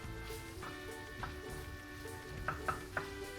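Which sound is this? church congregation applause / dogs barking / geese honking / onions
onions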